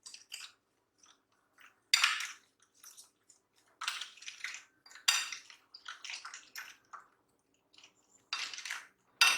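A spoon stirs sugar into a French toast egg mixture in a bowl. Faint, irregular clinks and scrapes come in short clusters with quiet pauses between them.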